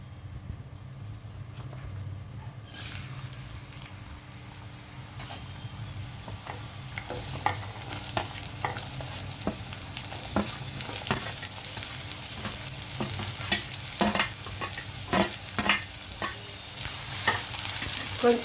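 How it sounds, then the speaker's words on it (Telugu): Chopped onions sizzle and fry in hot oil for a chicken curry, a quiet start giving way to a steady, close crackle with occasional stirring clatter that grows slightly louder toward the end. "ఆయిల్ హీట్ అయిన వెంటనే మనము ఆనియన్ వేద్దామండి. ముందుగా ఉల్లిపాయలు వేగించేసి"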